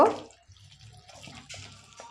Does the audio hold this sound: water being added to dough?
yes